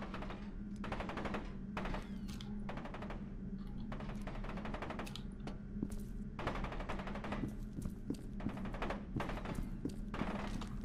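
Bursts of rapid gunfire hit the player in the shooter game F.E.A.R. 2, repeated dense machine-gun volleys with sharp impacts over a constant low hum, fairly quiet throughout.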